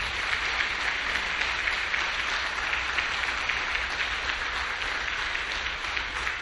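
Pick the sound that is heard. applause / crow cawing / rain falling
applause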